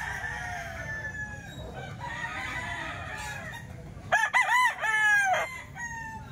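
A young gamefowl stag crows once, loud and close, in a strained broken cock-a-doodle-doo near the end, after a stretch of softer background noise.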